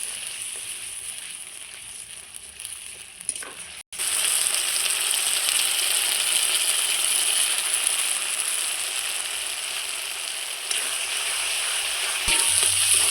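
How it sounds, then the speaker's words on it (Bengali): Spice paste for rohu fish kalia frying steadily in a pan after a splash of water, a loud continuous sizzle that jumps up sharply near four seconds and holds to the end, with no talking. "আবার ওই জলটা দিয়ে কষিয়ে নেবো খুব সুন্দর করে"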